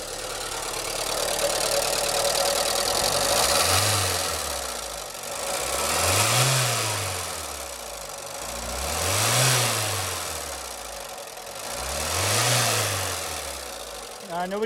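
An old engine in a car abandoned for years runs roughly with fuel leaks. Its steady idle rises and falls in slow surges about every three seconds, loud and close with no talking.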